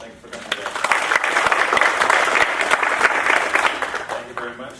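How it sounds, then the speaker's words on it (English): An audience applauds steadily for about five seconds to welcome a guest speaker at a university personal-finance talk, the dense clapping tapering slightly at the end. "So let's give him a round of applause and welcome him."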